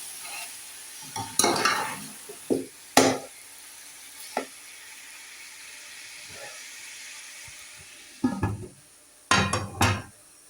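Fried chicken with tomatoes and potatoes is stirred in a pot, scattered scraping and clattering bursts between quiet hissing pauses, loudest near the end.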